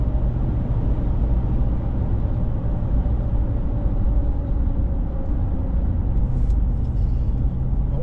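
A 2021 Ram 1500 pickup with the 5.7 Hemi V8, cruising at about 55 mph in sixth gear near 2,000 rpm while hauling wood, heard from inside as a steady low engine drone mixed with road rumble, no talking.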